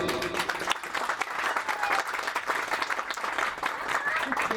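Sustained applause from an audience at a traditional reunion of Erzincan High School's 1982 graduates, steady dense clapping filling the whole stretch with a lively crowd texture.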